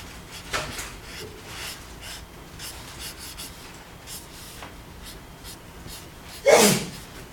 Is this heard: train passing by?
no